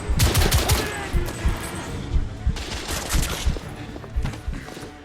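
Rapid bursts of automatic gunfire in the video game The Order: 1886, loud and dense, with repeated volleys and sharp cracks throughout.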